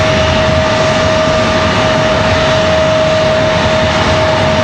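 An American Airlines Airbus A319 jet airliner departing Raleigh-Durham International Airport, its engines producing a loud, steady, continuous roar with a sustained whine, close and unbroken throughout with no voices.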